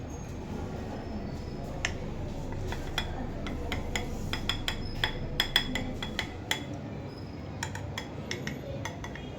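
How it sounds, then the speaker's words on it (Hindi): Yogurt and milk powder being stirred in a bowl for homemade yogurt, a spoon clinking sharply against the bowl in irregular taps over a steady low background. "तो हम थोड़ा सा यहाँ पर डालेंगे, थोड़ा सा वहाँ पर, इस तरीके से हिला लेंगे दही को।"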